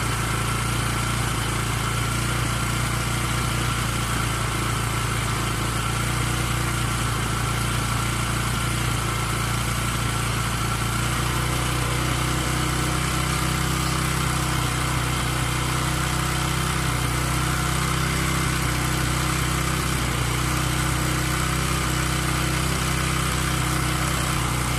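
A Bajaj Pulsar motorcycle engine runs steadily at idle up close, a continuous loud mechanical drone with no clear revving rise.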